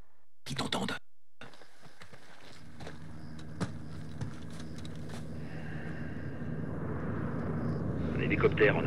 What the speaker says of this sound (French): hélicoptère en approche.